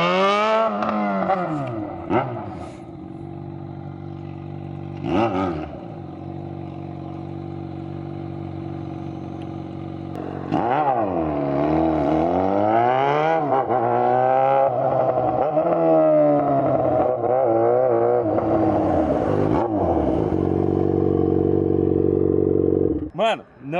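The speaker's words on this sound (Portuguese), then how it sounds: "eu vou sair agora com o super cano no escape da XJ" A Yamaha XJ6 motorcycle fitted with a long custom exhaust pipe, loud and close, revving repeatedly with rising and falling engine pitch and a steady idle between revs, while someone talks over it.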